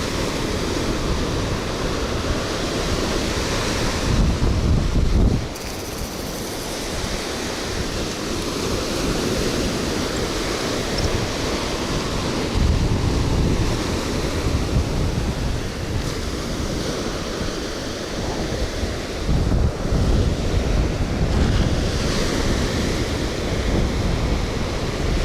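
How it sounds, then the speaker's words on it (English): Strong wind and rough surf on a Florida Gulf Coast beach, with continuous loud crashing waves and heavy gusts buffeting the microphone, surging and easing in waves throughout. "On this rough, windy day."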